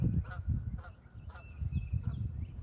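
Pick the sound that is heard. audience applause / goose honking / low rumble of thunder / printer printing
goose honking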